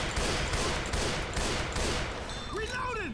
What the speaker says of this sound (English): It's okay if you shoot Zoey, just don't shoot me, okay?